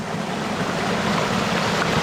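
Water from a jungle stream in Arambol rushes steadily with a loud, broad, continuous wash, close by and without voices.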